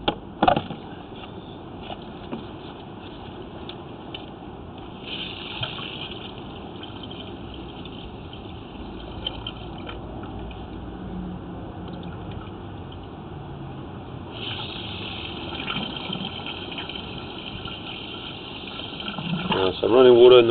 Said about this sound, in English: So I'm running water in the moment in the drain.